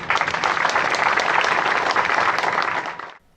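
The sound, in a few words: audience hand claps at an inauguration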